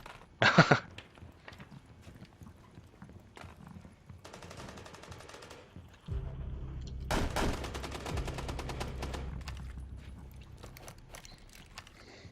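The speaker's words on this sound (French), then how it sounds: "Encore une explosion." Explosion in the video game Rainbow Six Siege: a sudden loud blast partway through, followed by a sustained low rumble and crackling debris over quieter game ambience and earlier sharp bangs.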